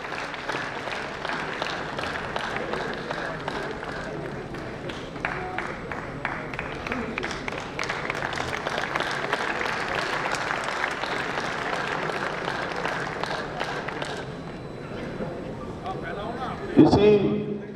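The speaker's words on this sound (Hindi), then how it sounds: "और जरा जोरदार तालियों से" Audience applause welcoming a yoga guru on stage at a Gurjar community conference, a steady crowd clapping continuously for many seconds at moderate distance, with a voice on the microphone over it.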